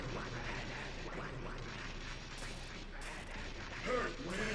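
Gunfire in Metal Gear Solid during a ninja boss fight: a few sharp shots ring out against a busy game soundscape, with a voice talking over parts of it.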